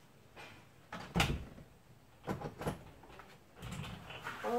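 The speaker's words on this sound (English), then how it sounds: "You wanna close the door? Close it." A house door is pushed shut in a few close, soft thumps and rattles, with no voices during the closing.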